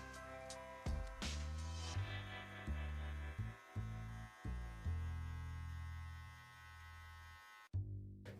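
An electric hair clipper fitted with a number 1 guard buzzes through hair during a low skin fade, a steady hum broken by repeated short dips and restarts as passes are made.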